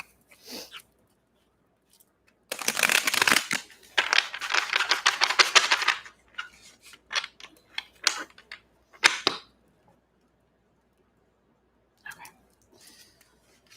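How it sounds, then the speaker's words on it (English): Tarot cards shuffled by hand in bursts of crisp riffling and flicking, one long run followed by scattered shorter snaps and taps, close up, quiet between bursts, with no talking. "One more shuffle."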